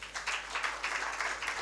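Scattered applause from an audience at a sustainable design expo, a few rhythmic bursts of clapping, fairly faint and distant.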